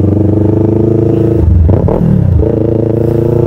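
A Yamaha R3 motorcycle engine runs loud and close, holding a steady drone with a brief rising rev and clatter midway before settling back to a constant buzz.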